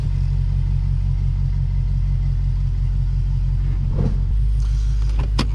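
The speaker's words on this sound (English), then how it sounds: "Car's still roaring. Let's reverse." A 2015 Lexus RC F with 100k miles idles in reverse during an oil change, a deep steady engine rumble that holds even and close, shifting slightly in tone near the end.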